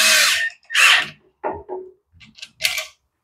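A 3/8 ratchet turning bolts on a Yard Machines tiller carburetor: quick bursts of close, loud ratcheting clicks with short pauses between, plus a few softer clinks and taps.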